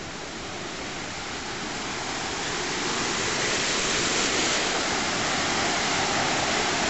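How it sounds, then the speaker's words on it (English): Powerful river water on the River Lennon near Ramelton, County Donegal, rushes in a dense, continuous roar that swells slightly louder partway through, with no voices. "Look at the power of that water."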